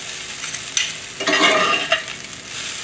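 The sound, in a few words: stir-frying chicken fried rice, pressing lumps down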